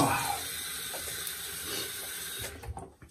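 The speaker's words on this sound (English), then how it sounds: "rinse with some cold water" Cold water runs from a bathroom tap for rinsing after a shave, a soft steady hiss that cuts off near the end, followed by faint handling sounds.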